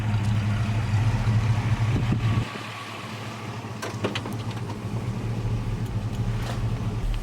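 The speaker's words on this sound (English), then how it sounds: "Let's get in the car and take her down the driveway." A 1979 Pontiac Trans Am rolls down a driveway, its engine giving a steady low rumble that drops briefly then settles into a continuous idle-like drone, heard from inside the car.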